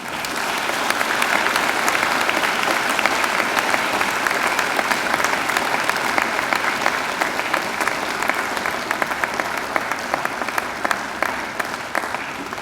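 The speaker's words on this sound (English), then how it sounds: "I invite you to give them a mighty round of applause" A graduation ceremony crowd of graduates applauding their families and friends, a sustained, dense and fairly loud roar of clapping that holds steady throughout.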